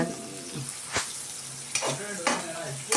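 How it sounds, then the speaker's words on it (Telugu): Onions fry in hot oil in a pan for egg curry, with a steady close sizzle and several sharp scraping stirs from a spoon against the pan. No one speaks. "ఫస్ట్ ఆయిల్ పోసుకోవాలి, తర్వాత ఆనియన్స్ వేసుకోవాలి"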